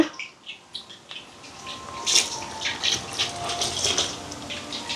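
Cow's milk pours into boiling coconut milk in a pot for payasam, a steady splashing gush of liquid that grows fuller and louder as the pour continues, close by and without talking.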